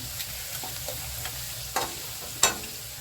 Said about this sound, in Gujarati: आपणे जे आ छोलेनो मसालो रेडी आवे छे तेने आपणे हवे एड करी दईशुं। हलावी लईशुं।